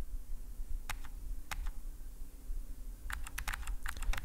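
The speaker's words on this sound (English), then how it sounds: "To switch between different panes, I am typing Ctrl B and one of the arrows" Sharp keystrokes on a computer keyboard, tapped while working in terminal panes: two isolated presses early on, then a quick cluster of taps near the end, over steady low background hum.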